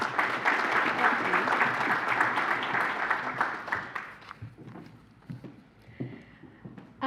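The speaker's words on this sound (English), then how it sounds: "round of applause for Miss Allison Collins" Gala audience applause at a county hall of fame event, loud sustained clapping that thins out and fades toward the end, leaving sparse claps and faint murmur before a brief rise at the close.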